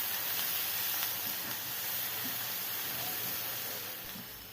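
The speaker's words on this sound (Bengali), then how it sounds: "এই পেঁয়াজগুলো নরম হওয়া পর্যন্ত ভেজে নিব।" Sliced onions with whole cumin seeds sizzle steadily in hot oil, a continuous close hiss from the pan with no voices, while a tilapia bhuna dish is being cooked.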